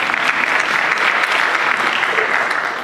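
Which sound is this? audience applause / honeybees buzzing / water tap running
audience applause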